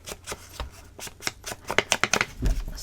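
Paper being cut in half with scissors during a mixed media photo folio craft project: a run of crisp snips and rustles, quickening into a cluster of sharper cuts near the end, close and fairly quiet.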